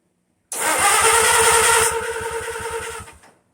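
A Farmall Super tractor engine with a new starter cranks with rapid rhythmic chugs, catches and roars to life, then settles and shuts off after a few seconds, close and loud.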